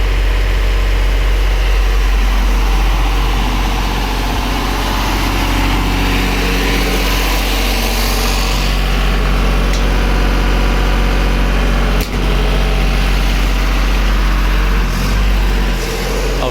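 A Miller Big Blue 500 diesel engine site welder generator runs steadily, a loud, continuous low chugging drone heard close up with no break in its rhythm.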